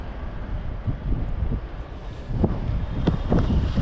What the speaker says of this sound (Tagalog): Hindi naman siya kalamigan pero malakas talaga ang hangin tsaka snow.